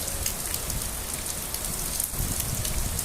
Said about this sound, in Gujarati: જબરજસ્ત વરસાદ છે આજે